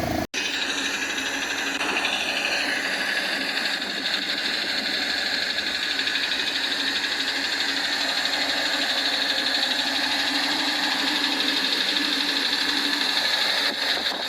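A 2017 UAZ Patriot engine idles steadily with a faint rhythmic knock in step with the crankshaft, a continuous close mechanical hum and clatter heard alone without talk.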